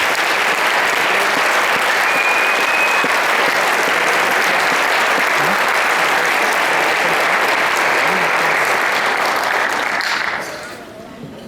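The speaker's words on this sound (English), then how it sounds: "So let's give these students a big round of applause." Sustained, loud audience applause for a student band at a school concert, thick even clapping from a large crowd lasting about ten seconds before tapering off, with faint voices underneath.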